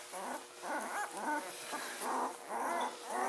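Newborn puppies, among them chocolate and black-faced spotted males in a litter, whimper and yip in soft repeated bursts close up, with no talking.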